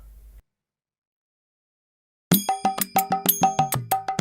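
A phone rings in a short burst of repeated bright, bell-like chimes that starts abruptly after near silence and carries on loud and close.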